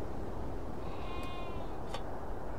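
A sheep on a ranch in the video game Beyond Two Souls gives a short, thin bleat over a steady wash of loud background noise.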